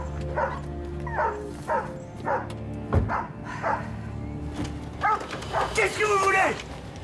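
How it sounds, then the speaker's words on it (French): Several dogs bark and yip in repeated short bursts at a steady pace, close by, and the barks grow into higher whining yelps toward the end. A low hum runs underneath. "Attendez, mes chiens."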